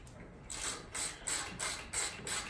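A ratchet backing out the upper strut bar bolts on a BMW G80 M3, giving five or six rhythmic bursts of rapid clicking, close and crisp, with no talk over it.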